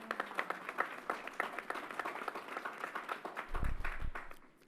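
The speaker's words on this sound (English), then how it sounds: "Let's give New York State a round of applause." A crowd at Yankee Stadium applauds during a governor's announcement, many distinct claps rattling at a modest, somewhat distant level, with a low rumble swelling briefly near the end.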